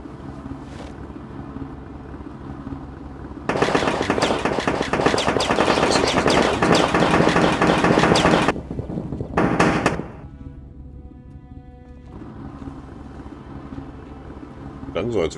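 Rapid automatic gunfire in the zombie survival game Project Zomboid, a dense loud burst of several seconds followed by a short second burst, set against a steady low drone and hum.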